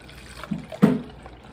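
Water runs into a cup in a brief close pour, a soft trickle that swells into a louder splash and then fades.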